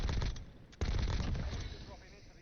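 Mounted gun firing in Call of Duty Warzone, loud rapid bursts of gunfire with a brief lull before a heavy resumption, dense and sustained across the clip with faint game ambience beneath.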